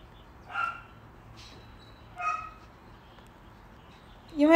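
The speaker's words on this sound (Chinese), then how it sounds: "听到狗叫藏起来了" A dog barks somewhere in a home during a cat livestream, three separate short barks spaced a couple of seconds apart. The first two are faint and distant, the last one louder and closer.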